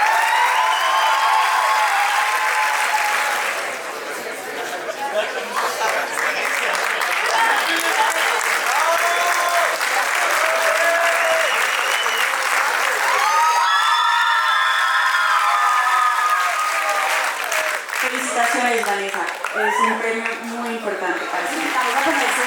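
Audience at a Liceo Francés Paul Valéry Cali school graduation applauding honor award winners: loud, sustained clapping close and all around, with cheers, whoops and children's shouts mixed in, easing briefly before a fresh burst.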